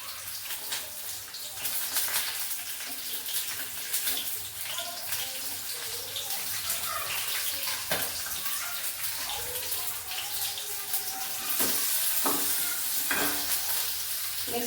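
Cumin seeds go into a hot pan for peanut chutney, producing a soft, continuous sizzle with scattered light clicks and stirring scrapes, fairly quiet and without speech.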